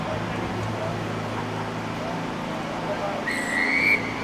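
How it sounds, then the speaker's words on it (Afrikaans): A referee's whistle blows for kickoff at an amateur rugby match, Eagle Stars RFC versus Oudtshoorn RFC, a short shrill blast near the end over a steady outdoor hum of traffic and crowd. "Skeieregter die blaas op sy fluitjie."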